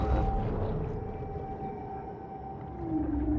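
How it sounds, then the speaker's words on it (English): Sperm whale calls in a video game: a loud, sustained, droning moan with steady tonal lines over a dense, watery undersea rumble. It carries on alone for several seconds without voices. "I have to fight a sperm whale."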